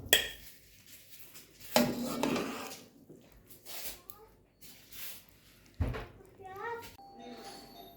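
Potato and egg bhujia is served from a pan into a dish, with metal utensils clinking and scraping against cookware in sharp bursts, while voices talk in the background of a home kitchen.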